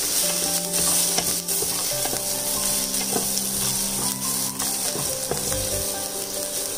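Food frying and being stirred in a pan over a medium flame for white chickpea sundal, a close steady sizzle with repeated scraping and clicking strokes, no voices.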